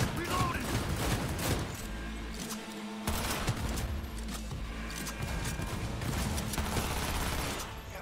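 Dense, rapid gunfire from the shooter game Cyberpunk 2077 rattles almost continuously with mechanical clatter, briefly pausing once before resuming, while a voice speaks underneath.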